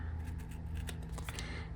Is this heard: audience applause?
no